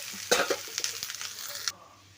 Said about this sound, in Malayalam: എണ്ണ ചൂടായി കേട്ടാ അപ്പോഴത്തേക്ക് ഞാൻ എന്താ സവാള ഉള്ളി ഇട്ട് കൊടുത്ത്